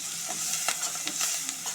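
Onions frying in a pan with ridge gourd pieces to follow, a faint sizzle under quick scraping stirs of a spoon against the pan.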